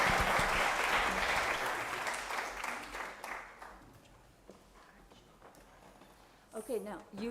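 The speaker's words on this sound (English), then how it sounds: "let's give a hand of applause to our panelists for the great conversation today." A summit audience applauds panelists, a loud dense burst of clapping that gradually thins and fades over a few seconds, followed near the end by a voice beginning to speak.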